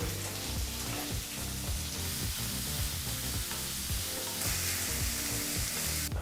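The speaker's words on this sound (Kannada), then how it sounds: "ನೀವು ಈಗ ಮೀಡಿಯಂ ಫ್ಲೇಮ್ನಲ್ಲೇ ಮೂರು ನಿಮಿಷಗಳ ಕಾಲ ಈರುಳ್ಳಿನ ಫ್ರೈ ಮಾಡ್ಕೋಬೇಕು" Onions frying in oil on a medium flame give a loud, constant sizzle with periodic scraping and stirring strokes underneath, and a brief surge of hiss near the end.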